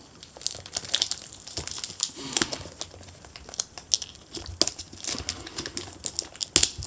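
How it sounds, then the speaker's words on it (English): Tape peeled and crinkled off a Nitecore BlowerBaby product box during unboxing, close, irregular crackling and tearing bursts that come and go over several seconds. "I'll just take that tape off."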